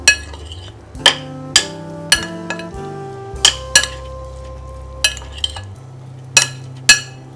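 Seasoned fish strips are tossed with black pepper and salt in a bowl. A utensil strikes the dish over and over, giving sharp, ringing clinks at irregular intervals whose tones linger briefly between hits.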